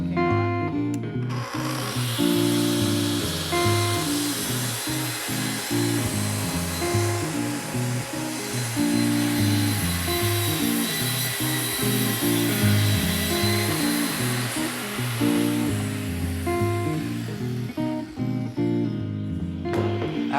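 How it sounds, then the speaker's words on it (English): A shop vacuum runs alongside a saw cutting a sheet of wainscoting paneling set to a quarter-inch depth, producing a loud, continuous whine and rumble that holds steady for about twenty seconds before cutting off. "vacuum came on."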